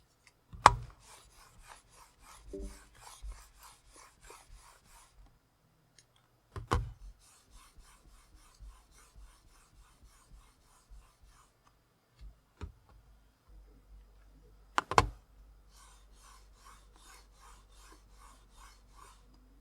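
A mouse slides across a cloth pad in quiet, repeated rasping sweeps. Occasional soft thumps and knocks fall between the passes.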